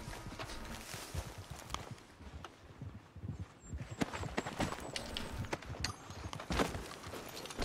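Horses walking in Red Dead Redemption 2, their hooves clip-clopping in a steady, uneven stream of soft, close thuds, with no talking.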